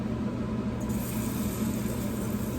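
Hot oil sizzles steadily under spoonfuls of southern cornbread batter being fried, a continuous close hiss with a low bubbling rumble and no pauses.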